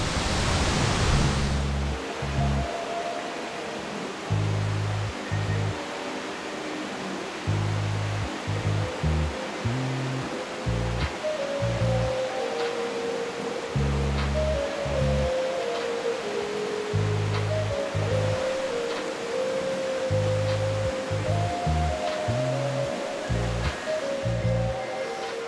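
Robertson Falls on Vancouver Island roars steadily in heavy flow, a broad, unbroken wash of rushing water close by, while rhythmic music plays over it throughout.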